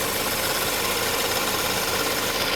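A Chevrolet Malibu's AC compressor with a failed, debris-shedding clutch runs loudly, giving a steady, dense mechanical roar with a rough knocking texture, close and continuous with no talk.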